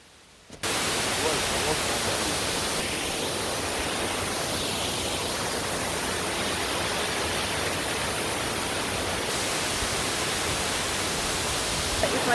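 Steady broadband roar of a waterfall, heard while approaching it on a hiking trail in the Canadian Maritimes, constant and fairly close, with faint voices in the background.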